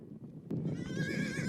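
A wild Nevada mustang gives a short, faint whinny over a dull ground rumble, with a possible hoof thud partway through, heard briefly and at a distance.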